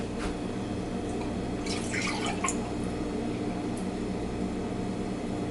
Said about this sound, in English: I'm going to pour this over the sink.